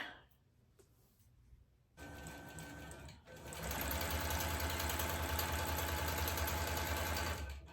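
A Gammill longarm quilting machine stitches a test on a table runner: quiet handling at first, then a short run of rapid stitching, a brief pause, and a steady, loud, close sewing drone to the end.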